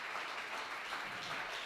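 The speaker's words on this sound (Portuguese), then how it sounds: "Aplauda ao nome santo do Senhor Jesus" A church congregation applauds during an evening missions worship service, a steady wash of clapping that sounds fairly soft and distant, with no voices standing out.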